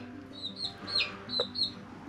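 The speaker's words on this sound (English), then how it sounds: "So got these little silky roosters over here." Soft, short clucks from small Silkie roosters, a few scattered calls close by over a low background hum.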